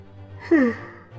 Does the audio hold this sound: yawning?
yes